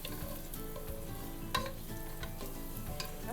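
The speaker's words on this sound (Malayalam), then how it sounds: "1 ടേബിൾ സ്പൂൺ എണ്ണ, 1/2 ടീസ്പൂൺ മുളക് പൊടി, ആവശ്യത്തിന് ഉപ്പ് ഇത്രയും ചേർത്ത് ഈ മുട്ടയൊന്ന് നമുക്ക് ഫ്രൈ ചെയ്തെടുക്കാം." Eggs frying in a tablespoon of oil with chilli powder and salt, a steady close sizzle with stirring scrapes and one sharp clink partway through, no voices.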